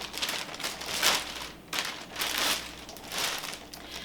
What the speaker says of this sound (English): I'm going to pop the shoes into the bag